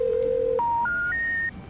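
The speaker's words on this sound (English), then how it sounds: "and then dialed it into his keypad." A phone keypad sounds a quick run of four loud, clean dialing beeps, each note higher than the one before, the first held longest and the rest shorter, with no one speaking.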